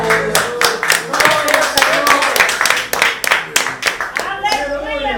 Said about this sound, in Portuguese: Que as palmas ao Senhor